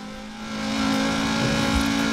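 An old Volvo with its factory-standard engine revs hard while drifting in Forza Horizon 4, a steady loud engine drone that climbs in intensity and holds, with faint tire noise, and no talk.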